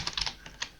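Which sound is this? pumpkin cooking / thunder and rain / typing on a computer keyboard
typing on a computer keyboard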